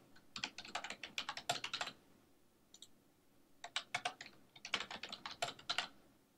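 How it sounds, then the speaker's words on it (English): Close, crisp typing on a computer keyboard comes in two quick bursts of key clicks separated by a short pause, with a few isolated taps in between and no talking. "I need to type in my numerical codes, my value labels for those codes"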